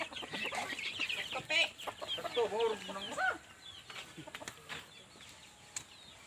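A few hens cluck and squawk nearby in short bursts on a farm, with a brief quieter stretch of farmyard background afterward.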